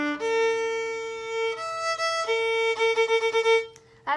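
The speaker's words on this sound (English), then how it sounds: "I changed the pitch of the violin and now it sounds like this." Out-of-tune violin string bowed after its tuning peg was twisted, a sustained sour bowed note that sways in pitch, then several short repeated bow strokes, played alone and close.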